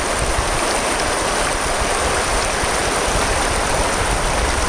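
The low, shallow Arkansas River rushes and burbles like a creek beside a sluice setup, a loud, steady broadband flow of water with no voices.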